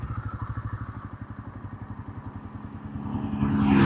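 A 300cc cruiser motorcycle engine in second gear thumps steadily at low revs with an even, pulsing beat, then swells louder as it starts to pull near the end.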